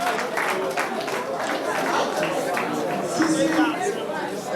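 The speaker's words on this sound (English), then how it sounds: "Can you give them the round of applause?" Meeting audience at an alumni association AGM giving a round of applause, a dense continuous clatter of many hands mixed with chatter and a voice over it.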